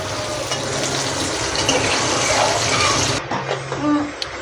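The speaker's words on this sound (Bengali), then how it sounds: "একটু নুন আর একটু হলুদ দিয়ে ওটাকে আমি লাল লাল করে ভেজে নেব।" Potatoes fry in oil with salt and turmeric, producing a steady, close sizzle and crackle that eases off toward the end.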